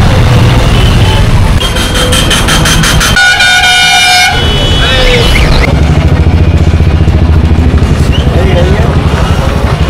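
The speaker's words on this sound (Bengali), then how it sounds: "এই রাস্তাটা প্রচন্ড ট্রাফিক," Heavy road traffic near the Diamond Harbour jetty, with motorcycles revving, dense honking and a long blaring horn burst, all loud and close, while a voice talks over the din.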